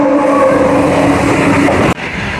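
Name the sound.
Sapthagiri Express train arriving at Ambattur station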